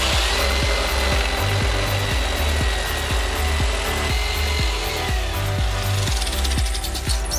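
A power tool cuts a piece for a high toilet tank, giving a continuous loud whining buzz with evenly spaced rhythmic thumps and a steady grinding texture.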